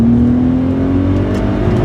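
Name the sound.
car engine revving through gear shifts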